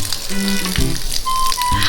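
Noodles sizzling and frying in a pan, a loud, close crackle with a few clanks of the pan or utensil over the short stretch.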